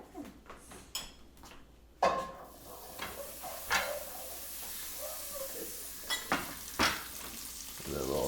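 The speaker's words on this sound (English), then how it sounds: "Browning our butter, you know, worst things have happened." Butter browns in a pan over medium-high heat with a soft, steady sizzle and hiss, broken by occasional clinks and scrapes of a utensil against the pan.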